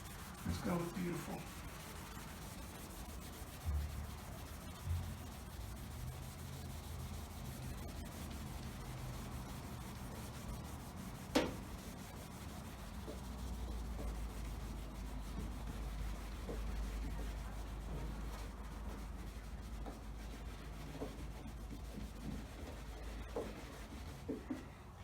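Car paint with eroding clear coat is rubbed by hand with a polishing compound, giving faint, soft, continuous scrubbing strokes with occasional light bumps and a low rumble in the background.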